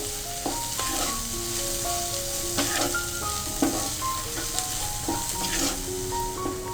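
Turmeric powder stirred into frying vermicelli upma, a steady close sizzle with repeated scraping stir strokes and light clinks of a spoon against the pan, no voices.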